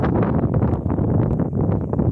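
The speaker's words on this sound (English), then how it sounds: "Oh no, now it's getting windy again." Strong wind buffets the microphone in a continuous low roar, loud and close, with gusty rumbling throughout.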